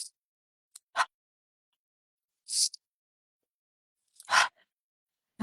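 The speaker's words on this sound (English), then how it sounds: "strong inhale through our nose and a strong exhale through our mouth" Breathing exercise: a few sharp nasal inhales and forceful mouth exhales, widely spaced, close and breathy, with silence between each breath.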